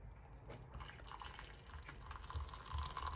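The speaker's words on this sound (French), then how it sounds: "Ensuite, j'ajoute mon eau tiède." Warm water poured onto matcha powder in a cup, a faint, close trickle and light splashing of liquid, quiet and steady with a slight gurgle near the end.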